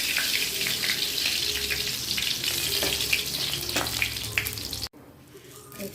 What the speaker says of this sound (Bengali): এই যে তেল গরম হয়ে গেছে, শুকনো লঙ্কা, তেজপাতা,